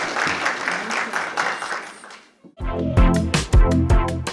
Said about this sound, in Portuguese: A plateia se despede da autora com uma calorosa salva de palmas